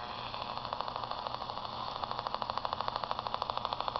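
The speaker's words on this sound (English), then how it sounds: "what I'm going to do is let you listen to it with the radio here" Oscillation from a tanked joule thief circuit picked up through a radio, a steady buzzing hum that turns into a rapid, regular pulsing tick in its second half, heard alone and fairly faint.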